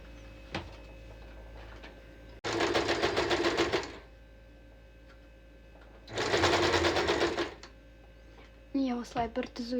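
Sewing machine stitching the twice-folded hem of a headscarf in two loud bursts of rapid mechanical whirring, separated by quiet pauses, with a voice speaking briefly at the end.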